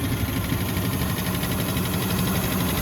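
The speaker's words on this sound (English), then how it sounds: "those lifters don't sound happy" A close engine from a barn-find vehicle idling steadily, with a fast, rattling tick of noisy valve lifters running continuously through the sound.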